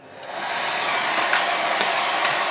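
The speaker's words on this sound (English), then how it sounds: "A hair dryer also works quite well" A hair dryer blows to dry developed photographic film, a steady close whoosh that ramps up in the first half second and then holds at a constant level.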